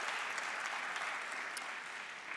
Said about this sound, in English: clap, make noise, this is fun.